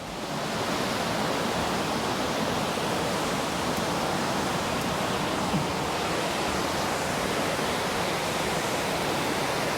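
Steady, loud rush of a waterfall at Nang Rong in Nakhon Nayok, heard from a lookout above the falls, a dense broadband roar holding evenly throughout with no voices.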